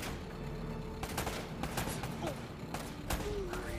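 Dense gunfire rattles throughout a firefight in the video game Uncharted: Drake's Fortune, with rapid shots layered over a constant loud mix of game audio and voices.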